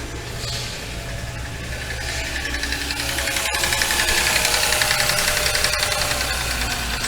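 A Genesis 3.3-litre twin-turbo V6 idles steadily after fresh spark plugs, a close, even engine hum with a faint rhythmic ticking and a slight rise in loudness partway through.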